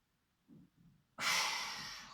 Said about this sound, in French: Relâchez en soufflant par la bouche.